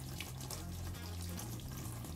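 Tap water runs in a steady broadband rush while a hookah is rinsed clean, with a faint shifting low hum underneath and no voices.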